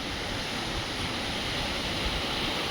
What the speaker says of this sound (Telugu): ఎగిసి పడుతున్న అలలు చూసి నేర్చుకోండి